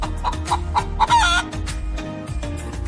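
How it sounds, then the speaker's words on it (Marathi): A chicken clucks in quick repeated bursts, close and loud, with one longer squawk partway through. "कोंबडी पक्षी आहे पण हवेत उडत नाही"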